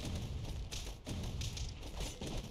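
Bombs exploding in the video game Castle Crashers, heard as a dense string of rough, noisy blasts and thuds. Bursts hit loudly at irregular moments over a constant din, with no talking.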